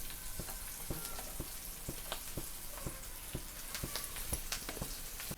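Brinjal slices coated in semolina fry on a griddle, a soft steady sizzle with a regular series of sharp little pops and crackles, heard close and fairly quiet.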